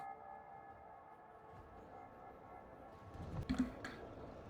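A train in the Factorio video game, modded with Space Exploration and Krastorio 2, rolls along as a steady low mechanical drone, with a brief louder rumble and clatter swelling near the end.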